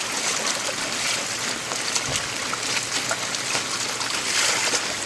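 Floodwater from heavy monsoon rain runs through a street in Nalasopara, a steady broadband rushing and trickling wash that lasts throughout without any voices.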